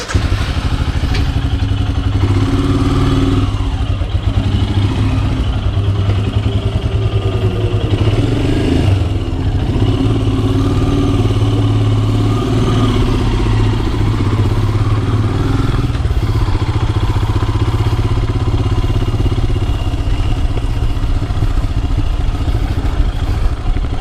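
A 2021 Royal Enfield Himalayan rides a muddy trail, its single-cylinder engine droning loud and close throughout with steady rumble, occasional revs and clattering thumps from the rough ground, and no talking.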